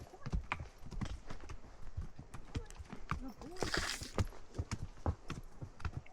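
A ridden horse's hooves clip-clop in a steady walking rhythm, fairly quiet and close, with a person talking over the footfalls.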